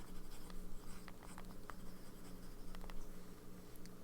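A Lamy Studio fountain pen with an extra fine nib scratches steadily across paper, giving a close, continuous rustle with small ticks and strokes throughout, soft and intimate with no talking.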